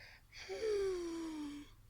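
A voice imitates sleeping mice snoring and sighing: a short breathy intake followed by one long, drawn-out sighing tone that slowly falls in pitch, heard close and alone.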